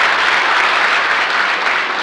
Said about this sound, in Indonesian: Tepuk tangan buat jemaat di tempat ini.